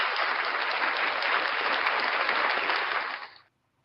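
Dense, steady applause from an audience fills the clip evenly, then cuts off abruptly near the end, leaving silence.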